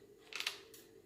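A raw prawn is cut with a sharp snip, giving a couple of crisp, close, quiet clicks against faint background hum.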